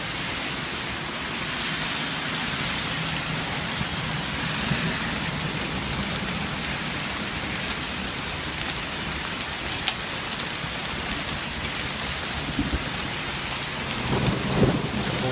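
Mother's Day hailstorm in Vestal, New York near Endicott, with heavy rain and hail pelting continuously and thunder rumbling through, a loud dense roar with a few sharper impacts near the end.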